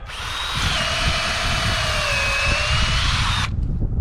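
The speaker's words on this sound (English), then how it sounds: "You take a drill, electric drill." A loud, steady electric drill whines continuously for several seconds, boring about 1.5 inches into a maple tree trunk for syrup tapping, before cutting off abruptly near the end.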